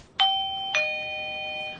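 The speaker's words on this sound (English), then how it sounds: "She gets an alert on her phone whenever someone rings the doorbell" A camera doorbell chimes a clear two-note ding-dong, the second tone ringing out and slowly fading with nobody talking.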